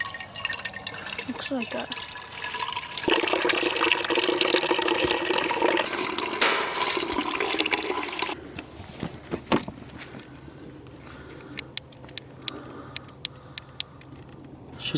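Maple sap runs from an opened spigot at a woodland sugar bush, a steady loud liquid pour lasting several seconds before tapering into smaller trickles and clinks, with people talking over it.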